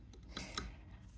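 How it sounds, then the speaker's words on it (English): Scissors snipping thread at a vintage Singer sewing machine fitted with an underbraider attachment, two or three quiet, quick crisp cuts close by in a still room. "Scissors."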